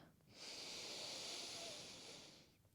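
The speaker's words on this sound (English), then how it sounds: "Take another full breath in here in puppy pose." A single long, deep breath is drawn in during a gentle yoga puppy pose, a close, soft airy hiss rising quickly and holding for about two seconds before fading.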